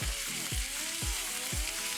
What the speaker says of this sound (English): Dry fry means just that, dry fry. It's a stir frying technique.